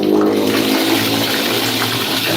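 Water running and splashing steadily while clothes are washed by hand, a continuous close rush with no voices.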